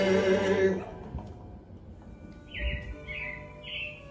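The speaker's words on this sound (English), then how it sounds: "it looks like the Robins are getting ready to celebrate Valentine's Day today" Three short, bright bird chirps sound one after another as an effect in Disney's Carousel of Progress show at Magic Kingdom, following the end of a song with a lingering room tone.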